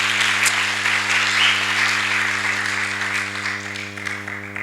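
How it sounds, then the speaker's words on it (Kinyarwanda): A church congregation claps after a call to praise God, a broad, loud applause that fades gradually over a few seconds, with a steady electrical hum underneath. "Reka dukomere Imana amashyi."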